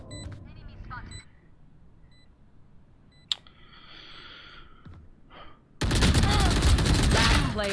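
Gunfire in the video game Valorant comes as a few sharp isolated shots and then a dense, loud burst of rapid fire at the end, among quieter in-game beeps and effects.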